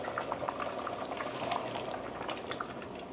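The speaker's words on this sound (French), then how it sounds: "je laisse mijoter et absorber la sauce" Spaghetti sauce, salted and turned down to the lowest heat, simmers steadily in the pot with continuous soft bubbling and popping, close and even throughout, no voices.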